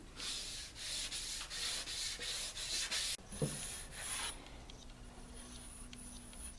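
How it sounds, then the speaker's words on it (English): Sandpaper rubbing back and forth over a rough side of a wooden camera slider part, a steady run of close, brisk scratchy strokes for about three seconds, then lighter, softer passes trailing off into quiet. "Just a few passes with some sandpaper."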